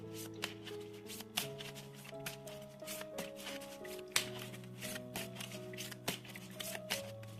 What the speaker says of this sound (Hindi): तो शुरुआत करते हैं शफल करके।